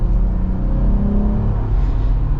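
AEV Gladiator JT370 with a V6 engine accelerating, a steady low engine drone and whir heard from inside the cabin, loud and continuous with no talking.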